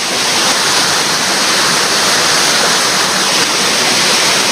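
Waterfall at Curug Nangka roaring steadily, a loud, dense, close rush of falling water with no breaks and no voices.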